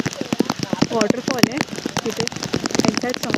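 Heavy rain patters densely on a nearby surface with sharp, irregular drops during a foggy trek at Rajgad fort, and a voice talks intermittently underneath.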